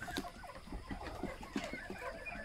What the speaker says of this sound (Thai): มาดูไก่ตอนกลางคืน